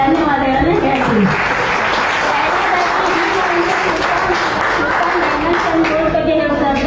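Applause from an audience honouring women at a jewellery showroom event, steady dense clapping that fills the whole stretch with crowd murmur and voices mixed in.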